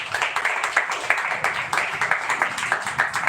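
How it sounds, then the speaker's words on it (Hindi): Church congregation clapping together at a Hindi worship service, a dense steady wave of applause from many hands with rhythmic pulses running through it, loud and filling the room. "प्रभु के लिए ताली बजाएं"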